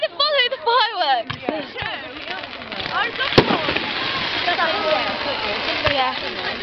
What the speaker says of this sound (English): Try to follow the fireworks.